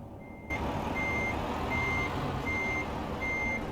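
A truck in American Truck Simulator sounds its reversing alarm, a regular series of loud, evenly spaced beeps over a constant low engine rumble.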